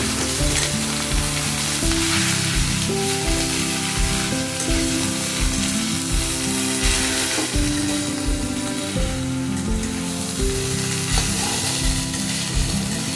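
Banana stem frying in oil in a pan while being mixed, giving a loud continuous sizzle with rhythmic stirring and scraping strokes throughout, and background music underneath.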